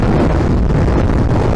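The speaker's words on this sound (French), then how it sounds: "mais le vent, je vous assure, c'est violent." Strong, violent wind buffets a camera's external microphone while riding a motorbike around Caen, producing a loud, continuous, low roaring rumble with no break.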